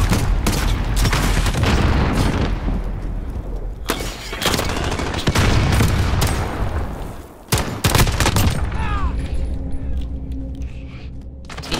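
Pistol fire in a video game, loud rapid shots and booms in dense bursts over mechanical game sounds, with a short quieter break before more firing.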